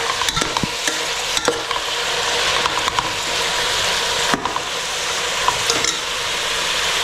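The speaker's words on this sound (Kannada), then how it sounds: "ಇವಾಗ ಇದಿಷ್ಟನ್ನು ಕ್ಲೀನಾಗಿ ಮಿಕ್ಸ್ ಮಾಡಿಕೊಂಡು" Soybean vegetable pulao with rice and ground masala is stirred in a hot pan, with scraping clicks and taps over a steady, close sizzle.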